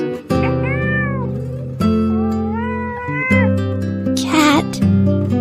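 A cat meows repeatedly, loud and close, a series of drawn-out, wavering cries with short gaps between them and a longer caterwauling yowl near the end, with no talking.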